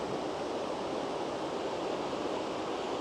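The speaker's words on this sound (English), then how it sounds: "I'm out here at the river" A river flows outdoors, its water making a steady, even broadband rush that holds constant throughout with no voices or other sounds.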